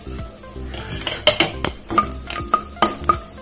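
Cashews stir-fry in ghee in a kadai, a soft sizzle broken by sharp metallic clinks and scrapes of a spoon against the pan, several close, irregular hits.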